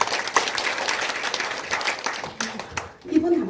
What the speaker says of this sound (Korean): 이미영 학장님이 박수 부탁드립니다